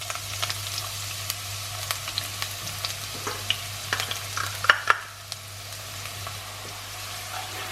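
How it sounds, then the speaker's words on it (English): Chopped onions frying over medium gas heat in a pan for a Singapore rice dish, giving a steady low sizzle with faint stirring scrapes and a few clicks, close by with no talk. "So now we're just going to fry the onions till they're light"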